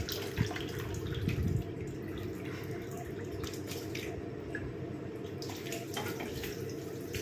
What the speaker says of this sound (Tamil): ஆறினதுக்கப்புறம் இந்த மாதிரி ஒரு பவுலில் நம்ம ஃபில்ட்ரு பண்ணி எடுத்துக்கலாம்